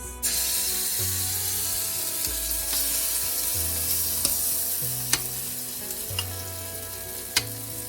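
Pink pancake batter fries in vegetable oil in a pan, a loud, continuous close sizzle with occasional sharp clicks and taps of a utensil, and no speech.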